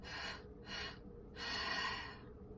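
Three deep, audible breaths come in and out close to the mic, two short airy pulses followed by a longer, fuller one, with no talking.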